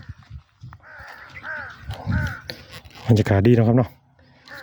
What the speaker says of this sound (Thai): มีเสียงกา เสียงนก